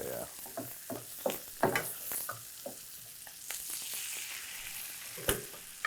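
Butter sizzles and crackles in a pan while wagyu filet steaks are basted, with spoon scrapes and clinks popping out over a steady low fry; no talking.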